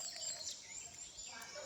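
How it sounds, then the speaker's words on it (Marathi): A Malabar bird calls on a foggy Konkan morning, sending thin, high whistled notes drawn out in a quick run at moderate distance. The calls rise over a soft, hushed background. "हा कोणता पक्षी समजत नाही, मला वाटतं मलबार पक्षी आहे"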